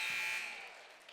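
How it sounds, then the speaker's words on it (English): A basketball game buzzer blares loudly at the end of a quarter in a high school gym, a steady electronic tone that fades away over about a second. "as the buzzer sounded."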